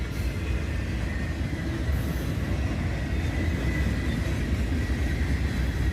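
A CSX southbound autorack freight train led by a pair of GE locomotives rolls past with a steady, loud rumble and wheel roar, carrying boxcars and frame cars.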